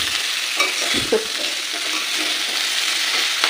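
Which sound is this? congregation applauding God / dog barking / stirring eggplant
stirring eggplant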